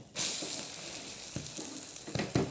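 Bread omelette frying in a pan until browned; a close, steady sizzle with a few soft scrapes and clatters, no voices.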